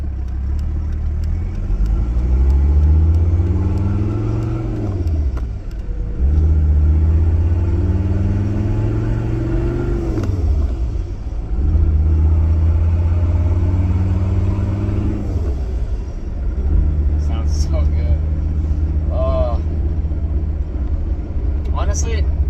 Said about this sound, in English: Honestly, it's almost worth the swap just for the turbo noises.